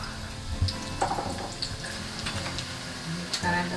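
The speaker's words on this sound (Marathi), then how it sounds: "कढई तापत ठेवलेली आहे तेल तापलं आहे ना तर सगळ्यात पहिलं काय कांदा" Onions frying in hot oil in a kadai: a steady, fairly quiet sizzle runs throughout, with a few brief clinks and stirring knocks layered over it.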